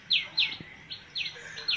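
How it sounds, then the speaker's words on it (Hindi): Small birds chirp in an urban garden: bright, quick tweets repeat in short bursts about every half second, fairly close and clear over a quiet background. "चिड़ियों की मधुर आवाज को सभी पसंद करते हैं।"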